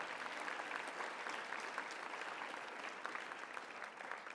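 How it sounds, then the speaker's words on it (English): At an alumni awards show, a large crowd gives award recipients a steady, even round of applause that sounds distant and fairly faint throughout. "let's have another round of applause for our incredible recipients tonight."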